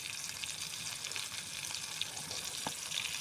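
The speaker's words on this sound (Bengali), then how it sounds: "দেখো কড়াইতে মাছ ভাজা বসিয়ে দিয়েছি।" Oil sizzling in a hot wok set up for frying fish: a steady, close crackling hiss with scattered sharper pops throughout, and no voices.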